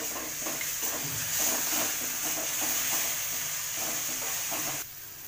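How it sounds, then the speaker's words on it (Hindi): Onions fry with a little salt in a pan, a steady loud hiss and sizzle broken by stirring scrapes, cutting off abruptly near the end. "प्याज अच्छे से भून जाए इसलिए हमने डाला है थोड़ा सा नमक।"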